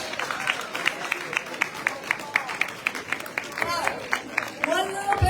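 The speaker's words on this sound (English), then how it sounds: "So give yourselves a round of applause." Audience clapping at a Chicago 6th Ward aldermanic forum, a moderate patter of distinct claps in an uneven rhythm, with murmuring voices rising underneath as it tapers off.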